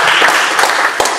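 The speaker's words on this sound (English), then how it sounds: "So I'd like you to give Joyce a round of applause," An audience at a wildlife conservation talk gives a round of applause, a dense, steady wash of many hands clapping that fills the whole stretch at close range.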